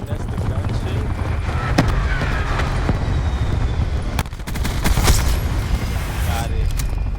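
Rapid machine-gun and gunship cannon fire in the video game Black Ops 4, sharp loud bursts cracking over a constant low rumble, with a player talking in the background.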